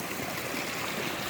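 Rainwater running down a stream on a ranch after a rain storm, a steady broadband rush and gurgle that stays fairly even and close throughout, with no talking.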